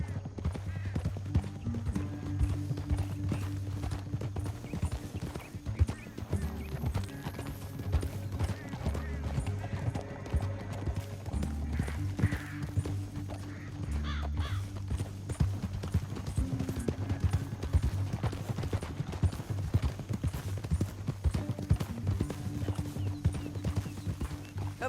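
Rhythmic hoofbeats clatter steadily at a gallop in Red Dead Redemption 2, close and continuous, with a low droning music bed and an occasional whinny.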